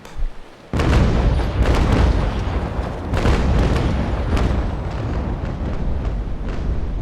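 Ship cannons firing ranging shots in the naval combat game Naval Action, a broadside of deep booms and bursts rolling continuously after a brief quiet start, loud and dense with overlapping blasts.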